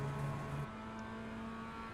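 Mazda MX-5 race car in iRacing's Global Mazda MX-5 Fanatec Cup. Its low-horsepower engine holds a steady droning note with a brief higher whine early on, then settles into an even hum.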